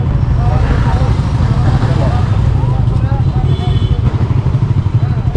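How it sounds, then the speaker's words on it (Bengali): A convoy of about seven motorcycles, including a Gixxer, rides along a road from Kishoreganj toward Mymensingh for a wedding, engines droning loudly and continuously with road and wind noise and a little voice activity mixed in. "আমাদের গাড়ির বাইকের বহর নিয়ে যাচ্ছি কিশোরগঞ্জ থেকে মানসিংয়ের উদ্দেশ্যে"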